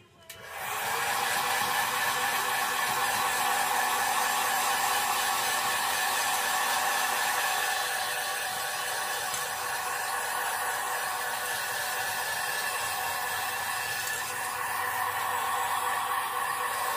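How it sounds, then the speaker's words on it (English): A heat gun heat-sets paint on a fishing lure with a loud, steady blowing whoosh that starts abruptly and runs without a break, close to the listener, with no talking. "Now we need to heat set this real quick."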